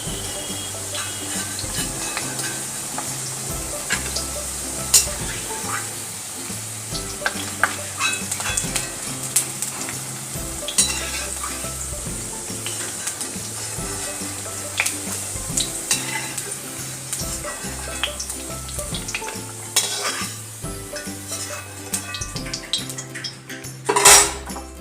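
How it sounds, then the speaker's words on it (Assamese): Potatoes frying in a pan in a home kitchen, a steady sizzle running under repeated scraping and clattering as a utensil stirs them against the metal, ending with a louder clank, without talk. "এতিয়া আলুখিনি ভজা হৈ গ'ল।"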